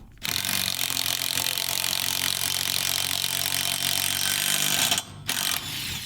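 Power tool spinning a nut off a custom knuckle jig built from a bolt, washer and Delrin block, a steady close, loud whirring drone for about five seconds, briefly cutting out before restarting, with no talk.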